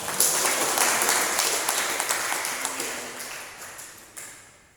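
A church congregation gives a burst of applause that starts strong and gradually thins out over several seconds, with a few last scattered claps near the end.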